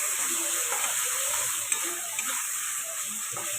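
Ground cumin and coriander powder being stirred and fried in oil in a pan, a continuous soft sizzle with faint scraping of the spoon, close and steady with no talking.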